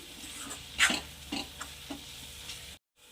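Gram flour roasting in oil in a pan for kanda pat zunka, with soft scraping stir strokes and faint sizzle, one louder scrape near the start, then a brief silence at the end.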